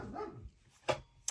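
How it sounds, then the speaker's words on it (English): A dog gives a short sharp bark, followed by a second brief bark at the end, with quiet lower whimpering sounds before. "Excuse the dogs, they're barking because we've got the garden around today,"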